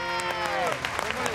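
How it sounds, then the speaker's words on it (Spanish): A studio audience on a TV entertainment show claps to welcome a returning contestant, scattered applause rising under a voice that speaks over it. "este día recibimos con un aplauso a la segunda desterrada, Nayib."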